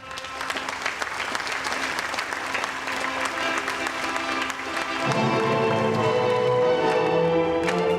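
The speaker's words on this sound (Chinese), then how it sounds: "让我们掌声有请新郎新娘" Wedding guests applauding to welcome the bride and groom, a continuous crowd of clapping that grows fuller and louder partway through as music swells in beneath it.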